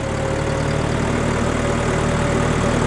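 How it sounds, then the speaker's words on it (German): An air-cooled diesel engine of a restored 1961 Porsche Diesel Master 418 tractor idles steadily with a low, even rumble and faint mechanical knocking, constant throughout with no voices. "Das ist ein Luftkühltermotor."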